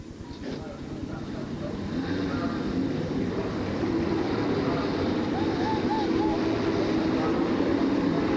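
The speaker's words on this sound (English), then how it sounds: "The engines are fired" Trans-Am race car engines fire up at the start of a 1990 SCCA race at Road America, a building mass of low rumbling engines swelling steadily louder, with a commentator talking over it.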